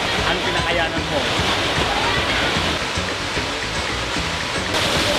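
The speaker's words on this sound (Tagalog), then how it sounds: "eto na at nasilayan na natin ang isa sa pinakamagandang falls sa Pangasinan, ang Tinakayanan Falls." Tinakayanan Falls in Pangasinan pours in a loud, steady, close roar of falling water that fills the whole soundscape without a break.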